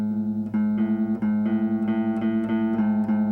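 A guitar's fifth string rings against the sixth with the fifth slightly out of tune, a steady sustained tone picked again roughly every third of a second, close and clear, with no talking.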